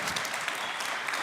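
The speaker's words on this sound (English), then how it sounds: "Big round of applause, please, for Alan McGee" Audience applause at a music industry conference talk at Liverpool Sound City 2018, a steady dense wash of many hands clapping throughout, moderately loud with no talking.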